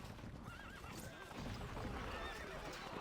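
A horse in the Stronghold Crusader strategy game gives a wavering neigh with clip-clop hoofbeats amid dense battle noise and game sounds.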